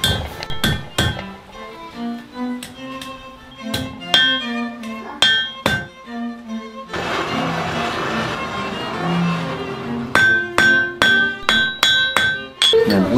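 Blacksmith strikes a piece of metal with a hammer, giving sharp ringing clinks in irregular bursts, separated by a stretch of broader clattering noise.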